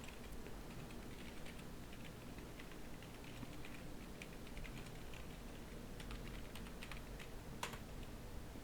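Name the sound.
typing an email address on a computer keyboard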